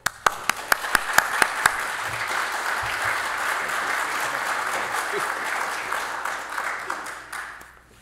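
A symposium audience applauds to welcome a speaker, opening with a few distinct claps that swell into sustained, dense applause before tapering off at the end.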